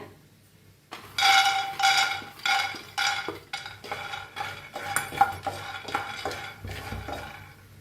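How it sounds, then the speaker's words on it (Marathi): Peanuts dry-roasting in a pan, stirred with a spoon in a steady series of scraping, rattling strokes after a quiet start, close and fairly loud with no talking. "आता आपण शेंगदाणे भाजून घेऊया"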